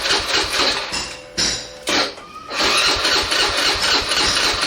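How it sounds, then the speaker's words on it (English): Fuel pump on a 2015 Suzuki Address 110 scooter running during installation, a steady loud whirring mechanical hum with two brief dips in the middle, heard alone without talk. "fire up the fuel pump. You notice gas is squirting out, see it?"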